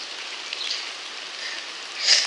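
Rain falls outdoors as a steady, even hiss of drops, with a slightly louder patter swelling near the end.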